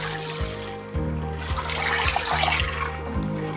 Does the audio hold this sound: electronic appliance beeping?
no